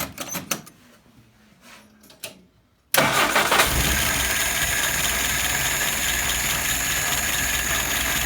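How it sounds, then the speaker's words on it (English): A car engine cranks briefly and catches after a carburetor float repair that had caused flooding, then settles into a loud, steady run close by, with no talking. "Let's go ahead and fire it up."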